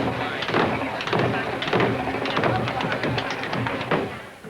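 A jazz hoofer's tap shoes rattle through a full-speed cramp roll: quick clustered toe and heel strikes in repeated bursts, close and loud, with thuddy floor impacts.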